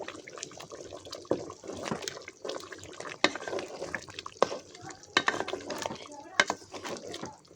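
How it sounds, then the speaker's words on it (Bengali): Chicken curry is stirred in a pot, giving wet sloshing and scraping with repeated sharp knocks of a utensil against the pot, close and uneven. "এখন এটাকে নেড়ে দেবো আমি।"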